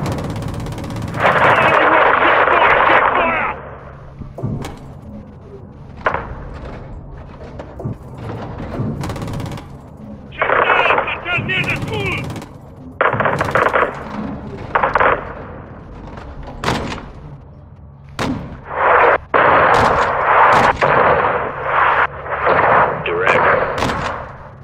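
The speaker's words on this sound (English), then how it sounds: "Seeing small arms fire from the gas station." Bursts of small arms gunfire in the Call of Duty Modern Warfare II combat game, loud and repeated in clustered volleys with sharp single shots between them, the firing dominating throughout.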